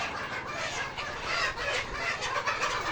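Layer pullet chickens, several hundred of them in a poultry shed, cluck and chatter in a dense continuous din that fills the space at moderate loudness.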